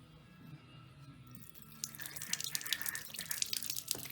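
Water trickles and splashes as it is poured into the sunroof drain of a VW Super Beetle, starting faint and growing into a closer, busier pouring with drips toward the end.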